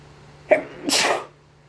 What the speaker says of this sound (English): I got the sneezes now.